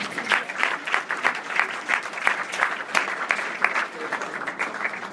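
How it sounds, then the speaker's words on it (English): Applause at a gala from a modest crowd, with individual claps audible in a loose, slightly uneven rhythm, moderately loud and continuing steadily throughout. "How do we like that? A round of applause."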